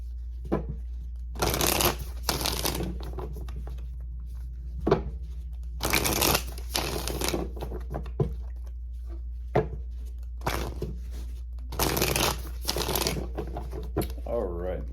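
Tarot card deck being shuffled in several loud crisp riffle bursts, separated by pauses, with someone speaking between and a steady low hum underneath.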